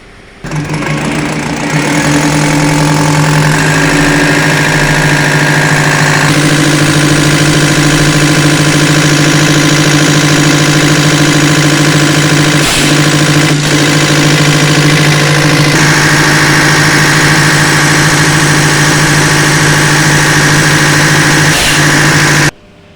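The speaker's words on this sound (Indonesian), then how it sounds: "pompa injeksi akan dioperasikan untuk menyetel pada 800 rpm" A Colt Diesel Canter 125 PS injection pump runs on a test bench at set speeds near 800 rpm, a loud, steady, close mechanical drone with a strong hum, shifting tone slightly a few times before cutting off.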